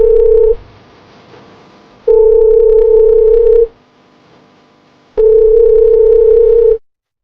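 A phone's ringback tone sounds while a call is placed: three loud, steady beeps of about one and a half seconds each, separated by quiet gaps, repeating in a regular cadence.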